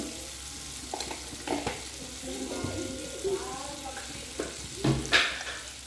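Curry leaf rice with turmeric is stirred in a pan, soft scraping strokes and light clinks rising over a low sizzle in an uneven rhythm, close and fairly quiet.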